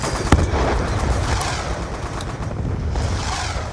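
Rapid gunfire bursts from a video game, with a sharp loud shot near the start followed by sustained firing and reloading clatter under a busy game soundscape.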